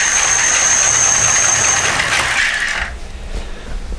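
A car alternator used as an e-bike motor spins the back wheel with a loud, steady electric whine and mechanical whir that cuts back to a quieter hum near the end.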